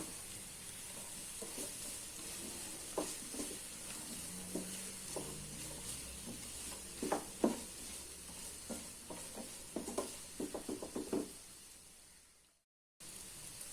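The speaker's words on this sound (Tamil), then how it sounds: "இப்போது இந்த கேரட்டும் பீன்ஸும் போட்டுக்கலாம்." Carrots and beans sautéing with onions in a pan for a spiral macaroni masala pasta: a quiet, steady sizzle broken by repeated close spatula scrapes and stirring clacks, ending in a brief silence.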